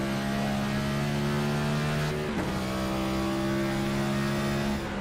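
A race car circulating on the New Hampshire oval, a steady engine drone with strong low harmonic tones that dip briefly midway and then hold, loud and continuous with no voices.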